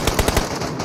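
A short, loud burst of rapid automatic gunfire in the mobile battle royale game PUBG Mobile, several shots in quick succession fading out within a second.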